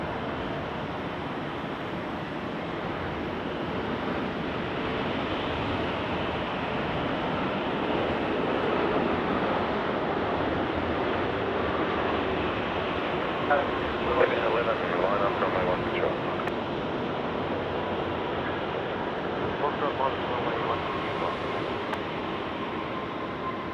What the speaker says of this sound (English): A330 coming in from Honolulu.